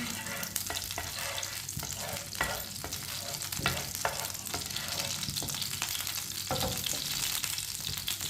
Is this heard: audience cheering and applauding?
no